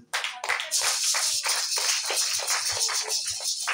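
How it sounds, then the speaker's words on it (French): A church congregation applauding during a French-language service, a dense, loud burst of many hands clapping together that starts abruptly and carries on steadily. "Oui, applaudissez pour le Seigneur."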